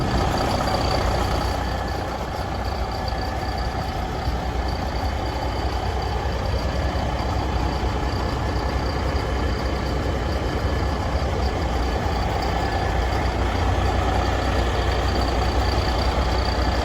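A 2022 Peterbilt 389 flattop heavy-spec truck runs steadily at close range, its engine giving a continuous deep rumble with a constant mechanical hiss on top, and no voices over it.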